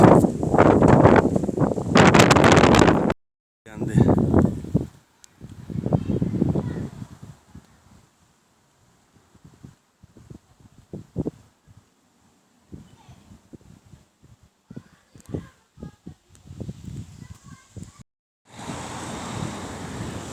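Wind buffets the microphone in rough gusts outdoors on a street, broken by bursts of nearby talk and a few pauses of near silence.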